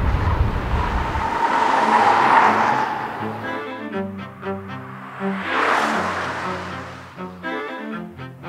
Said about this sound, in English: you can hear those tires just howling